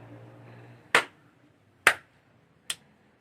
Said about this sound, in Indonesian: Tepukan yang pertama itu seperti ini.